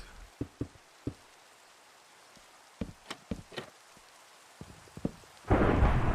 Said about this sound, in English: Whoop, thunderstorm.